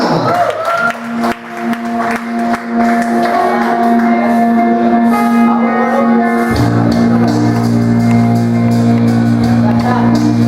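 A comedy club audience at a stand-up show breaks into loud, sustained applause with cheers and whoops as a comedian is called to the stage, and a steady musical tone runs beneath the crowd noise throughout.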